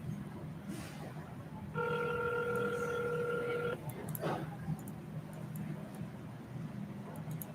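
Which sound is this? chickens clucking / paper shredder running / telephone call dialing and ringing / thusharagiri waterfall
telephone call dialing and ringing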